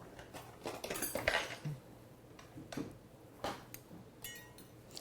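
A knife slicing into a rested, crusted fillet steak, with a series of soft clinks and scrapes of metal on a plate or board, close and fairly quiet, no talking.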